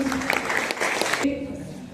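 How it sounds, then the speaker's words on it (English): A crowd applauds at a kayaking challenge ceremony in Mechuka, dense clapping that stops abruptly partway through, leaving a quieter room tone. "A round of applause again."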